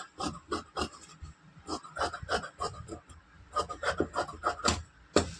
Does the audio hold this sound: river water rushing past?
no